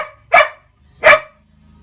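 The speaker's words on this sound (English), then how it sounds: "Apologies for the dog." A dog barks twice close by, two sharp, loud barks about three quarters of a second apart, with quiet in between.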